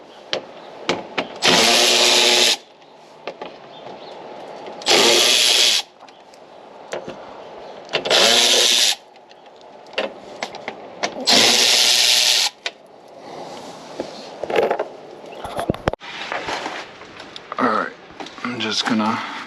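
A power tool drives 10mm socket bolts on a Lexus ISF during a supercharger install, running in four loud whirring bursts of a second or two each, with someone talking in the gaps between them.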